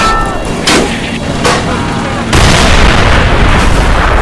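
Artillery fire in a toy war strategy game, heavy booming blasts and rumbling impacts building into a dense, continuous roar of bombardment, loud and close, with scattered sharper pops mixed in.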